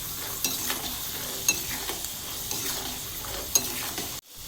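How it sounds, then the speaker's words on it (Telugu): Peanuts fry in hot oil, crackling and sizzling steadily at close range with scattered sharp pops and spoon scrapes, then cut off abruptly at the end. "పల్లీలు దోరగా వేసిన తర్వాత చిట్టాపట్టాన్ని సౌండ్ వస్తుంది"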